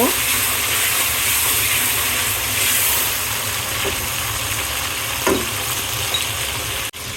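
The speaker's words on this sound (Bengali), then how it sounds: "এখন একটু নেড়ে নিব। মশলাটা একটু ভালো করে মিশিয়ে নিব।" Cumin paste and spices for a rohu fish curry with cauliflower, beans and potato, frying loudly in a pan with a dense, continuous sizzle and occasional scrapes of stirring, close up.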